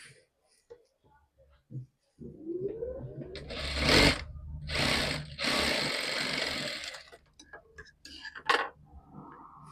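Sewing machine stitching tucks on a blouse, a few short bursts of rapid mechanical whirring and ticking separated by pauses, close by, with a voice talking around the runs.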